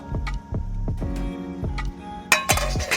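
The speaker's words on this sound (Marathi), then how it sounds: "झाकण ठेवून ठेवायचं." A metal lid settles onto a cooking pot on a village wood-fired stove, giving a run of ringing clinks and rattles. It ends with a sharper clatter as the lid comes to rest.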